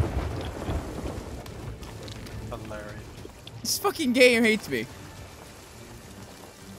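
Stormy weather in the video game Sea of Thieves: steady rain hiss under a loud, rumbling thunder crash midway, while someone talks over it.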